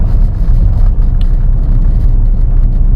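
A used Hyundai i20 diesel engine idles low and then pulls slowly, a steady continuous rumble with some wind noise over it and no voices.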